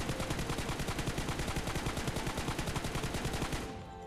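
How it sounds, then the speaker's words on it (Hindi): Rapid automatic gunfire from a scoped rifle in PUBG Mobile, a steady stream of sharp, evenly spaced shots at close range lasting about three and a half seconds before cutting off, with no voice over it. "ये मैंने स्कोप ओपन किया और फायर देखो"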